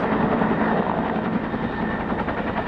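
A firefighting helicopter works over a bushfire at Collins Cap Road, Molesworth, Tasmania. Its rotor throbs in a loud, continuous, rough drone, heard alone and unbroken.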